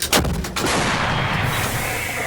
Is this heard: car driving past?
no